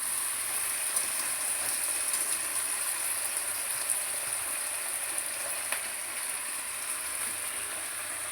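Vegetables frying in a covered pan, with spinach and a little salt, giving a steady, even hiss and sizzle that holds constant throughout with faint occasional crackles.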